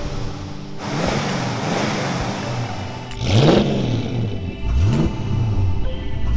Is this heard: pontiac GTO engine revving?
yes